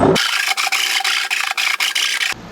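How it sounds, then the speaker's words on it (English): A coarse, rounded file rasps back and forth inside a hole in a barrel, in about ten steady, loud strokes with brief gaps between them. "This is a coarse, rounded file to try to, and this will help keep that hole nice and round."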